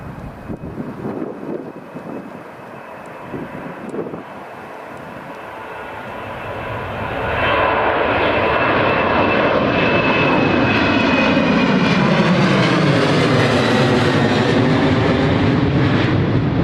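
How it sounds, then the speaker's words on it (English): A Jet2 jet airliner passes at Newcastle International Airport, its engine roar building from a distant rumble to a loud, sustained sweeping whine with a falling pitch as it goes by, no voices over it. "Right, here comes the Jet2."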